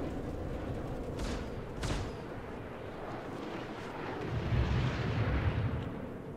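Ship weapons fire in the space game Star Citizen, with a few sharp blasts early on and then a rumbling burst of heavy fire, with no one talking.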